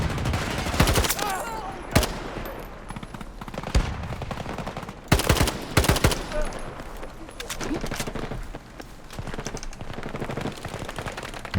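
Automatic gunfire from a meta gun in the shooter Battlefield 2042, with rapid bursts and single sharp shots spread across the clip, some louder and closer, over a busy in-game background.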